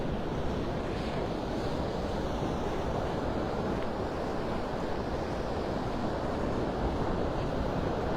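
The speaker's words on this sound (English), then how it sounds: "Enjoy the sounds of Mother Ocean this morning." Ocean surf rolls onto Vanderbilt Beach in North Naples, Florida, on a morning walk, a constant loud roar of breaking waves mixed with heavy wind buffeting the microphone.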